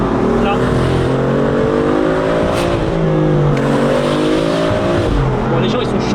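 A tuned BMW M4 with heavy performance modifications accelerates hard, its engine roaring loud and close through rising gear pulls with brief shift dips, while someone talks over it from inside the car.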